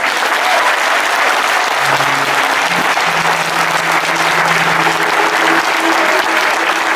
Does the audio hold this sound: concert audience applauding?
yes